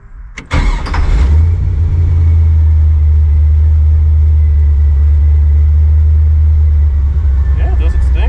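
A 1955 Chevrolet Nomad gasser engine fires up and settles into a loud, deep, steady idle that rumbles on without letup; a voice is heard briefly near the start.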